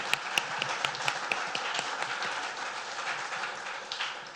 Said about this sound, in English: So one more round of applause for Oz.